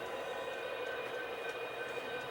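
A model railroad train running along layout track on the Granite Mountain Railway, a steady continuous rolling rumble with a faint whine, level and unbroken throughout, no voices.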